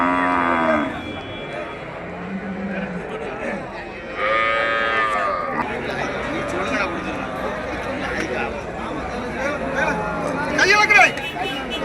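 Manapparai bulls, cart and farm bulls, mooing repeatedly with deep, drawn-out lowing calls at close range, several animals overlapping, while people chatter in the background throughout.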